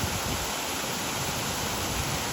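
A park waterfall at Roath Park pours in a steady, even rush of broadband water noise that holds without a break, with no voices.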